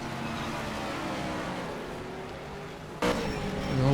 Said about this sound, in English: We've got our car noises back